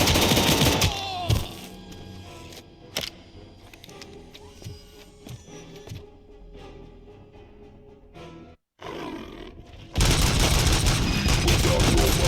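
The enforcement robot ED-209 fires on the player in the game RoboCop Rogue City: loud bursts of heavy automatic gunfire at the start and end, with scattered impacts and clatter between and a brief silent gap.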